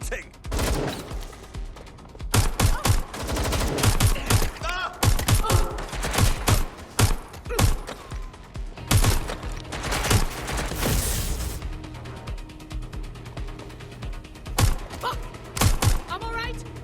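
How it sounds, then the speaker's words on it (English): Gunfire from suspects in the video game Watch Dogs Legion: loud bursts of rapid shots and sustained automatic fire with thumps, mixed with game voices throughout. "Suspects shooting!"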